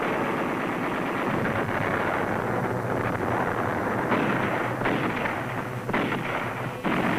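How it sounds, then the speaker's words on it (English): Machine gun fire rattles without a break in a battle sound effect, loud and dense, with heavier booming bursts layered in over about seven seconds. "Machine gun fire echoed across the hills."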